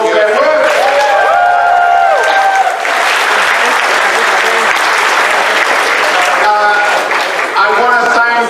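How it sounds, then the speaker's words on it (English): Audience at a Transformers fan convention gives a loud round of applause, sustained clapping for over eight seconds with faint voices and tones beneath. "please give a massive round of applause to Chris and Jim for all of their work"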